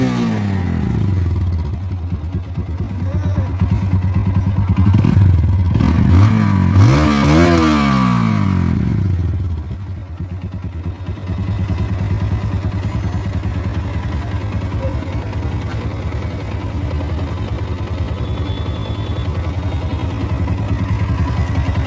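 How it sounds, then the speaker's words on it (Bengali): A second-hand motorcycle in like-new condition runs steadily at idle, revs up briefly partway through, then settles back to a close, even engine drone with some mechanical clatter. "এখন আপনাদেরকে ইঞ্জিনের সাউন্ড শোনানো হচ্ছে।"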